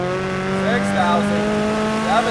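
A turbocharged Subaru BRZ sports car engine howls at high revs toward 7,000 RPM from inside the cabin, a loud sustained tone with rising pitch sweeps, while a person talks over it.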